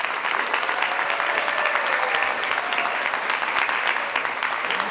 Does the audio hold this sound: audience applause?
yes